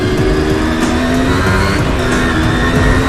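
A 1982 Kawasaki KE motorcycle engine runs steadily just after a kick start, a loud, continuous two-stroke drone with slight rising revs throughout, alone without talk.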